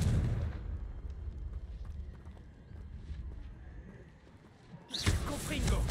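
A Confringo fire spell blasts in Hogwarts Legacy: a loud broadband burst opens, then a rumbling lull, and a second sharp, bright blast erupts near the end.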